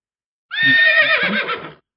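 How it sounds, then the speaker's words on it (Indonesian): A single loud horse whinny sound effect in a Scratch program, bright and wavering, lasting just over a second and then cutting off to silence. "Oh, lihat ada kuda."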